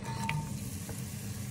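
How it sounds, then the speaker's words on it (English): Sliced shallots frying with sizzling cumin in a pan for a kidney bean curry, a steady close crackling sizzle with a brief stir and clink. "let it sizzle a bit and I'll put in the shallots"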